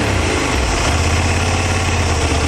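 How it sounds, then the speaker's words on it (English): A QJmotor SRT 800 SX motorcycle engine runs loudly and steadily at idle, a dense, continuous rumble with a low throbbing pulse and no voices. "Then I will start the engine."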